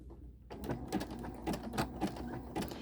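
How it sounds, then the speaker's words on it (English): Sewing machine stitching along the edge of a quilt binding, a quiet start, then a run of rhythmic mechanical needle strokes close to the machine. "I like to take a couple of stitches"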